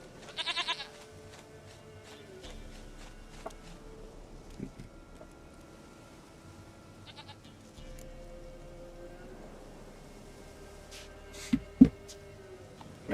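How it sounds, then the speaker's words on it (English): Goat bleating in the video game The Witcher 3, heard as a few short, fairly faint calls over a low ambient game soundscape with no talk. "Goat of mine, dearest, sweetest goat."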